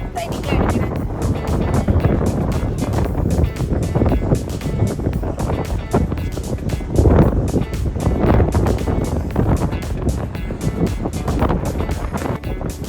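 Strong sea wind buffets the microphone on the open deck of a cruise ship sailing from Copenhagen to Oslo, loud gusty rumble throughout with someone talking over it.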